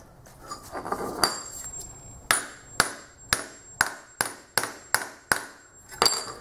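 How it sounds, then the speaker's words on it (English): A series of sharp metallic hammer strikes driving a tee nut into a hole in wood, about ten evenly paced blows with a ringing tone, close and loud after some softer handling noise. "Hammer it in"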